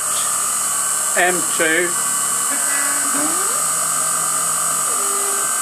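An Emco F1 CNC machine drills a starting point in a wheel hub, a steady high machine whine and motor hum running throughout, with pitch shifts as the spindle moves and a brief spoken word near the start.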